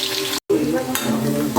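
Finely chopped half onion dropped into hot oil with curry leaves for a Malvani surmai fish curry, a steady sizzle with stirring scrapes after a brief cut, close and fairly loud.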